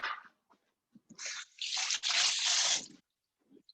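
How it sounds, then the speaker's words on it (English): Tap water runs in bursts over sticky hands being washed, with short drips and splashes building into a louder steady rush for about a second before cutting off. "I have to wash my hands."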